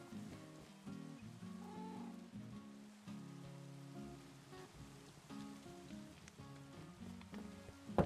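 Night rain in a vanilla survival game, a faint, steady patter running under a continuous low musical drone, with no talking.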